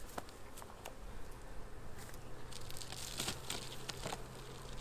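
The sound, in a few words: honey bees in a hive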